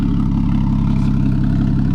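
A straight-piped Porsche Cayman S idles with a deep, throaty rumble from its 3.5-inch exhaust tips, steady and loud up close, without revving.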